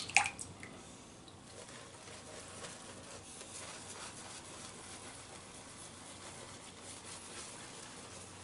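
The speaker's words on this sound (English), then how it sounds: "It's also fairly easy to load, to lather." Shaving brush working White Sage and Lime soap on a fairly dry load, a soft, continuous wet squishing and rubbing that stays quiet and steady throughout with no voice.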